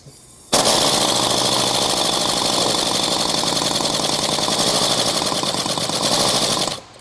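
A classic Ford Mustang engine running on compressed air bursts into a loud, rapid, chattering run, holding steady for about six seconds before cutting off abruptly, alone and close.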